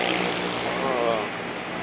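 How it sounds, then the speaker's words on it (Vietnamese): Saigon street traffic after heavy rain around Hẻm 459 Trần Hưng Đạo, Cầu Kho gives a broad, steady rush of passing vehicles, mostly motorbikes. A voice talks over it. "âm thanh quen thuộc của Sài Gòn đó là tiếng xe, tiếng còi."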